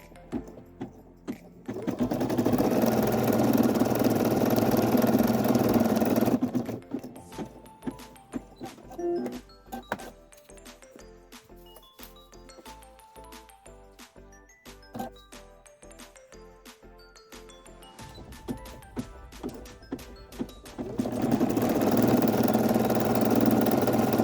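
A Brother SE 1900 embroidery machine stitches an applique. Loud, steady runs of motorized whirring open and close the stretch, with a quieter middle section of rapid clicking needle strokes and brief pauses.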